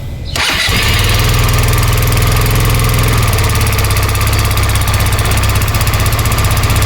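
An engine cranks and catches after a battery test, then settles into a loud, steady, rhythmic idle that runs on close to the microphone.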